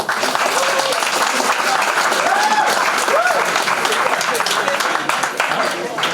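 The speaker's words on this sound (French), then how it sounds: "Applaudissez pour Ibrahima Sory Baldé qui défend le compte." Audience applauding after a speech at an oratory contest final, continuous dense clapping with some crowd voices, loud and steady throughout.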